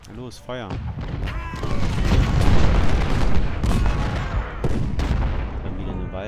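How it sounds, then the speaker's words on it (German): Civil War cannon and musket fire in the strategy game Ultimate General, with booming artillery shots and crackling volleys rolling continuously and loudly over a dense battle din, a brief voice heard near the start. "Na los, Feuer!"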